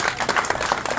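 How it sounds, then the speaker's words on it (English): A crowd at a heritage day celebration in Kruger National Park gives a brief burst of continuous, busy clapping outdoors. "give yourself a round of applause, ladies and gentlemen"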